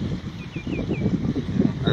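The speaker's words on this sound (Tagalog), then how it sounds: "Ang lakas ng hangin, cover natin ng konti." Steady gusty wind buffeting the microphone outdoors by a river while fishing, a low continuous roar with rumbling surges, with faint distant chirps above.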